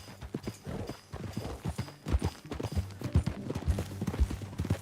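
Horse hooves clip-clop in a steady walking rhythm in the video game Red Dead Redemption 2, close and moderately quiet, with no other prominent sounds.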